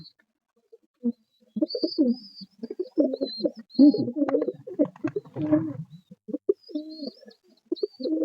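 Large all-white pigeons coo in bubbling, throaty runs that come and go over several seconds, close by, mixed with a person talking and thin high chirps.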